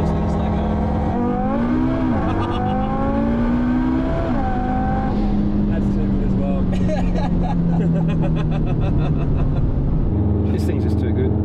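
A car's engine drones loudly from inside the cabin while it drives fast, with revs climbing and easing and a steady roar underneath. Voices talk over it.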